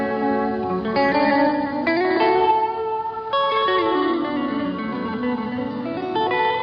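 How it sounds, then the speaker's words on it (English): A Binson Echo Rec magnetic disc delay unit processing a tonal instrument, sustained pitched notes that slide and shift with repeating echo trails and lush reverberant tails, loud and continuous. "their new Binson Echo Rec magnetic disc delay"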